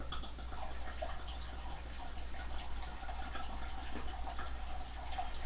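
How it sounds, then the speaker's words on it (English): White wine trickles through a funnel to top up a carboy during second-stage fermentation, a faint steady liquid pour running throughout over low background hum. "We're just topping it up."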